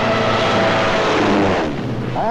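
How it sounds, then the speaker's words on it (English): A World War II German dive bomber in a 1943 wartime documentary, a loud, roaring aircraft engine that rises and sweeps past in a brief burst, with the pitch dropping near the end. "one of our own inventions, the dive bomber."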